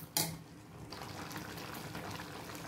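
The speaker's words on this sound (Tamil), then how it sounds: "தேங்காய் போட்டு ஒரு 2 நிமிஷம் அப்படியே கொதிக்கட்டும்." A steady bubbling simmer of vegetable kurma curry with coconut, potato, drumstick and carrot in a pan, after a brief sharp clatter at the start, continuing evenly with no voices.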